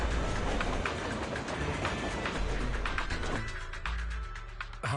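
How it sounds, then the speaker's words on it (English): A train starting up in the Zenless Zone Zero video game, with a loud steady mechanical rumble and rail clatter that builds and then thins out, ending on a sharp hit, with no talk over it. "I think this operates the train"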